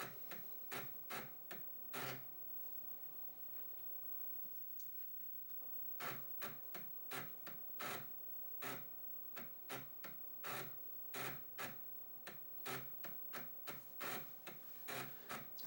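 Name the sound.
Amiga internal floppy disk drive booting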